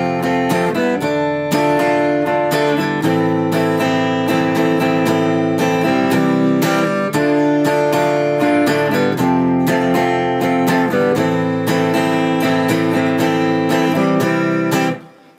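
The chorus of a song is played on guitar as sustained, ringing chords in a steady repeating pattern, loud and close, with no voices.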